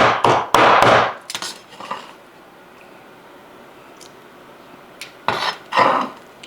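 A knife chops pork belly into small pieces on a cutting board for sisig: a fast burst of sharp, close thuds, a quiet pause, then another cluster of hard knocks. Nobody talks.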